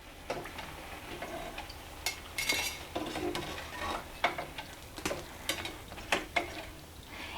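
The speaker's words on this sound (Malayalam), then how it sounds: "ഇനി നമുക്കിത് എണ്ണയിൽ നിന്ന് കോരിയെടുക്കാം" Filled doughnuts lifted out of hot frying oil with a metal scoop, giving a series of sharp clinks and scrapes against the pan over a soft background sizzle, close and fairly quiet.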